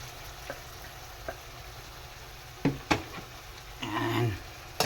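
Dried fish (tuyo) sautéing in a pan gives a close, steady frying sizzle, with a few sharp clinks and stirring scrapes and a brief louder burst of crackling near the end.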